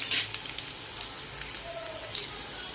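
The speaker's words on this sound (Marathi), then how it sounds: "आपण बटाट्याचे काप पाच मिनिट तेलात परतून घेऊ" Potato slices fry in hot oil with a continuous close sizzle, scattered spits and crackles, and a faint clink at the start.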